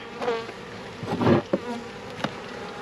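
Honey bees from a newly installed package hum in a loose swarm at close range, with a louder swell of buzzing in the middle and a few sharp knocks of handling at the hive.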